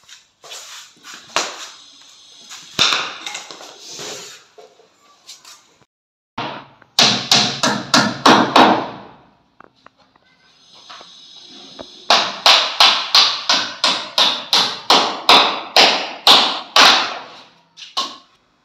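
A hammer taps repeatedly at close range in quick, evenly spaced bursts of sharp knocks separated by short pauses and some shuffling handling sounds.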